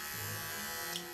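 A Wahl Bravura hair clipper with a DC rotary motor hums in a steady, fairly quiet high-pitched whir throughout, alone with no talking.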